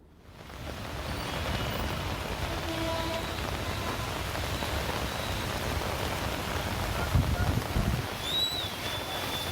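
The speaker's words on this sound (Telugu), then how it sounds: "ఇప్పటికే హైదరాబాద్తో పాటు రాష్ట్ర వ్యాప్తంగా వర్షాలు కుండపోతగా పడుతున్నాయి" Heavy monsoon rain pouring down in Hyderabad, a dense steady hiss of drops hitting surfaces that swells in at the start and stays constant, with no voices.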